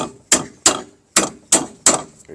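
A hammer delivers five sharp metallic taps on a press-on style wheel bearing part from a PT Cruiser front hub, each strike ringing briefly before the next, at an uneven, unhurried pace.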